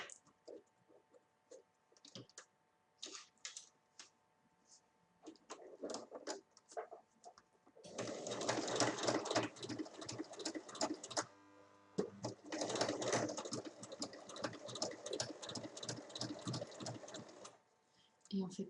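A sewing machine stitches a zipper onto a large fabric bag in a steady rapid run of about ten seconds with a brief pause midway, following quieter handling clicks and rustles.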